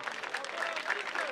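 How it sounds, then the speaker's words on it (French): Brief, faint applause at a cemetery gathering honouring a deceased artist, quick claps mixed with voices and murmur. "tous les artistes partout vos amis, ne pas y manquer, applaudir massivement"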